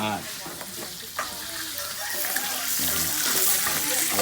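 Chillies are dry-roasted in a pan outdoors in Phnom Penh, Cambodia, with a close, steady crackling sizzle broken by occasional stirring scrapes that grows slightly louder toward the end.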